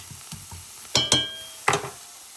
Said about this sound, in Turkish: Şimdi güzelce bu soğan bunun içine karıştıralım. Ve yağını koyayım kızlar.